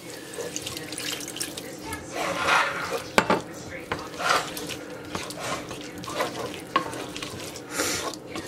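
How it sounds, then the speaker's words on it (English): Vegetable stock pours into a pot of shrimp chowder in several splashy bursts, a near, liquid gush and stirring sounds with faint bubbling between pours. "And now I'm going to start adding vegetable stock."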